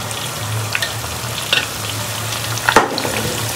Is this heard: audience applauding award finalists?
no